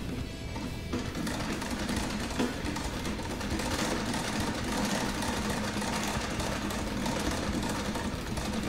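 A 1910 sewing machine stitching denim for a new pair of jeans, running continuously at a steady fast mechanical chatter, close and loud, with no pauses.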